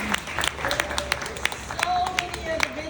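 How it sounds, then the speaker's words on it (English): Crowd applause at an LGBTQ wedding expo in Jersey City, a moderate, steady spatter of clapping from an audience, heard at middling distance without a clear single voice. "let's give a huge round of applause to all the vendors that are here today"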